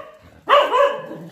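A single dog gives one close, sharp bark that trails into a short whine, heard indoors in a home with no talk over it.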